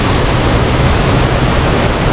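Kadiyanlena waterfall near Nawalapitiya, Sri Lanka, roars with a strong, dense flow of water, a loud unbroken rush filling everything, with no voices.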